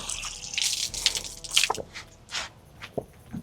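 A free purified drinking water tap running, with splashing bursts and drips of water that rise and fall unevenly, close and fairly loud, with no voices.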